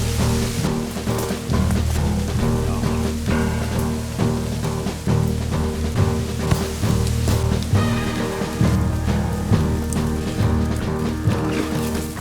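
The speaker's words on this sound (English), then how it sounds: "It's starting to rain." Rain drumming steadily on a leather-edged tarp shelter with grommets in the woods, a dense patter of drops continuous and close throughout with scattered sharper hits.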